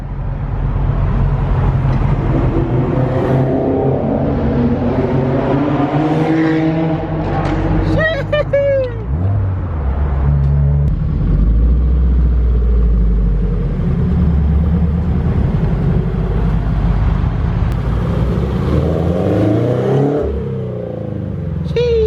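Subaru BRZ/86/FRS with an OBX catback exhaust driving through a tunnel, a steady resonant exhaust drone that swells and eases with the throttle over a long stretch, while someone talks throughout.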